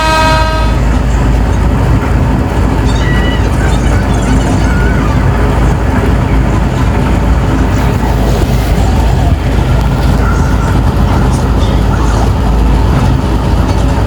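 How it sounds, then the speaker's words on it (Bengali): A vehicle horn toots near the start over the steady rumble of an engine and road noise, which continue loudly throughout. "এখন একটা হর্ন দিব"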